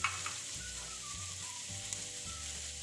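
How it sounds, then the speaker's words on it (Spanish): Mushrooms sautéing in a pan for a quiche, with a steady close sizzle and faint scrapes of stirring throughout. "Colocamos los champiñones, lo vamos a sofreír"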